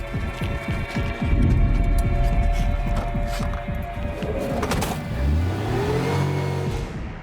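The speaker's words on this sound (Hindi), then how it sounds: "चलो रे, गाड़ी आ गई।" A car pulling up, its mid-pitched engine humming and throbbing close by, revving up and then dropping as it slows, with faint background noise and no talking.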